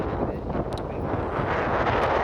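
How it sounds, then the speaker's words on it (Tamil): Strong wind buffets the microphone at Malampuzha Dam in Palakkad, a continuous loud low rumble with steady gusting and no voices. "எந்தளவு காற்று நீங்களே பாருங்களேன், பயங்கரமான காற்று."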